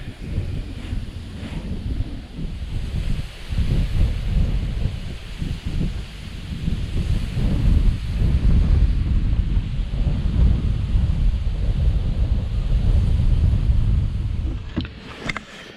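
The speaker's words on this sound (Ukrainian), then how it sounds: "Я кажу, вітер страшне." Strong, steady wind roars and buffets the microphone, with a low rumble of waves or water underneath throughout.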